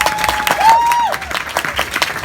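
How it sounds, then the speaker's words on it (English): Audience members at a stand-up comedy show clap steadily and densely throughout, with a brief whistle-like tone rising above the applause. "People start clapping for you."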